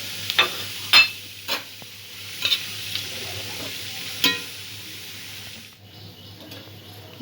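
A teaspoon of whole cumin seeds, two bay leaves and one dried red chilli crackle in hot oil for a fish-head ash-gourd dish, giving a close, steady sizzle broken by sharp pops and spatters.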